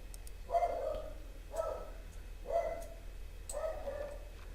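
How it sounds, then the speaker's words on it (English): A dog barks four times at a steady, evenly spaced rhythm, somewhat distant and muffled, over a low background hum. "And my dog's barking."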